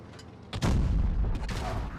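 A tank cannon fires in World of Tanks Blitz while driving a Chieftain Mk 6: a single loud, heavy boom erupts after a soft lead-in and rolls on as a rumbling echo.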